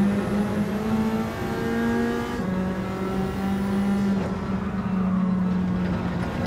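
Nissan Silvia S15 race cars in Gran Turismo 7 give a loud, continuous engine drone, with revs climbing and dropping through gear shifts as several cars run close together.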